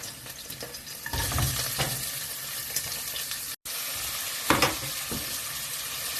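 Pakbet vegetables frying and being stirred in a pan: a close, steady sizzle with scraping and tossing bursts, a brief cut of silence partway through, then the sizzling and stirring resume with a louder clatter.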